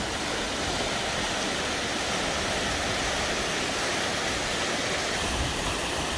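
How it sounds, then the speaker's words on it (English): Water rushes steadily at a reservoir used as a hydroelectric dam, a loud, continuous broadband roar with no breaks. "It's using 10 million gallons of water an hour."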